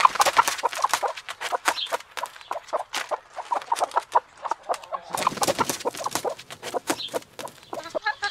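Hens cluck steadily in a busy, overlapping chorus, close by, with short sharp calls scattered throughout and a brief lull near the middle.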